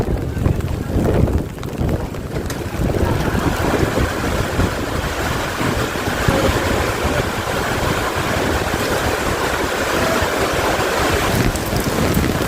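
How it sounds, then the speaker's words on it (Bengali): Torrential rain lashes down at Namkhana railway station, a loud, continuous roar of downpour mixed with gusty wind buffeting the microphone, steady from start to finish with no speech. "নামখানা রেল স্টেশনে পৌঁছানোর আগেই মুষলধারে বৃষ্টি চলে এসছে, দেখতেই পারছেন।"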